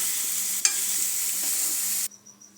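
Ingredients for palak paneer roast in a hot kadhai with a bright, continuous sizzle that flares briefly, then cuts off abruptly, leaving near silence with faint clinks.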